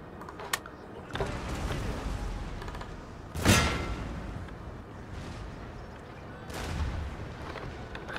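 Cannon artillery in the Napoleon Total War video game fires in a few deep booms over a constant battlefield rumble. The loudest blast lands mid-way and a fainter one follows later.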